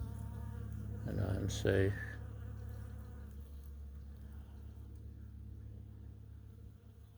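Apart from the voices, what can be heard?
honeybees buzzing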